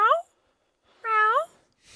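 A voice imitates a cat's meow twice, two drawn-out, rising-and-falling yowls separated by a short pause, close and loud.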